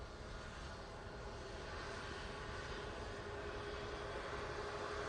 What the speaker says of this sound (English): Eurowings from Stuttgart will be in next using an A320.